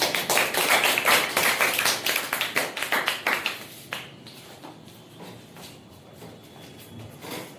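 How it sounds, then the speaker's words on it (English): A small audience at a speech competition claps for a performer, with crisp individual claps that are fairly loud at first and then thin out into a few scattered claps before dying away. "Clap for Sanjana."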